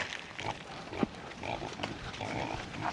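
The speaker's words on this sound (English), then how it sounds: "All right, these are the pigs." Pigs and piglets on a farm grunting in short, low snorts scattered over a rustling background, close and moderately loud, with no talk.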